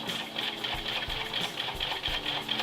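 A home sewing machine stitches a seam on a formal dress bodice, giving a steady, rapid mechanical whir with a faint repeating tick, close and continuous, with no talking.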